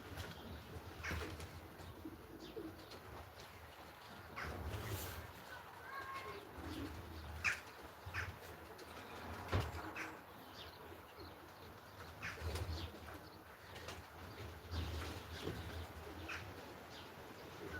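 Racing pigeons coo softly and repeatedly amid a busy background of rustling and small knocks, with occasional chirps.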